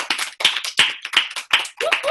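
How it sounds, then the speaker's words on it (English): Team members clap together at a monthly meeting, a series of sharp, close hand claps in an uneven rhythm with no talking over them. "let's just give her a big round of applause"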